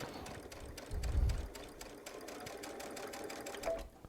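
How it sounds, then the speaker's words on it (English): A Baby Lock Solaris sewing machine fitted with a walking foot stitches in reverse, giving a rapid, even mechanical whir of needle strokes up close with a low thump early on. "with a dynamic walking foot, it will actually sew perfectly in reverse without making any pleats or tucks"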